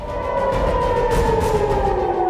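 A loud, steady wailing air raid siren in Israel during an attack holds a sustained tone, sounding alone without voices.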